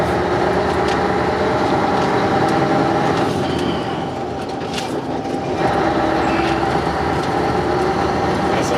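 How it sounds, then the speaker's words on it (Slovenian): A Scania 143 V8 truck with a classic bonneted cab, its engine ahead of the cab, cruises along a smooth main road with a loud, steady, deep rumble and a brief easing in the middle. "Scania je popolnoma mirno peljala"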